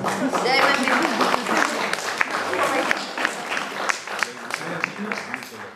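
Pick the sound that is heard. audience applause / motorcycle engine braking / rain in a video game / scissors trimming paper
audience applause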